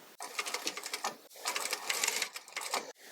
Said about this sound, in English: So I'm going to sew the piping cord onto the seat platform first.